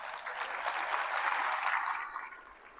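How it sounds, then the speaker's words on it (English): An audience at a talk on living with Parkinson's breaks into a brief burst of applause, moderately faint and fading out after a couple of seconds. "Now that deserves an applause."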